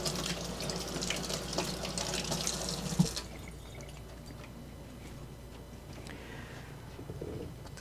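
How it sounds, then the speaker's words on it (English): Small tomatoes rinsed under a running kitchen tap, a steady hiss of water that cuts off about three seconds in, leaving quiet room noise and faint handling sounds. "you just rinse them off."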